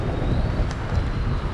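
Wind gusting outdoors on a cool 21-degree walk home, a steady low rumble of buffeting across the microphone with no clear breaks.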